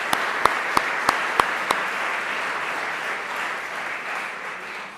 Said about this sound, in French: Nous pouvons déjà l'applaudir et le remercier.